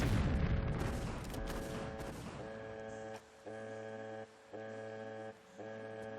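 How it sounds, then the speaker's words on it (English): A rocket launcher fires in Tomb Raider 3, followed by a heavy explosion: a loud, dense burst of blast noise in the first two seconds, then ringing tonal game sounds repeating in regular pulses as the blast fades. "let's take this guy out with the rocket launcher"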